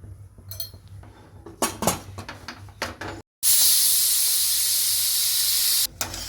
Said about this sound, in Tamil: இந்த குக்கர் திறந்து விட்டேன்.